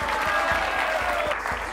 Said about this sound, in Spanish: ¡Un fuerte aplauso para Enrique!